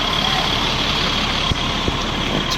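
A large Mercedes-Benz 1525 diesel bus engine, in an Adi Putro Jetbus body, idles with a steady low rumble and faint mechanical whine, plus a couple of brief knocks.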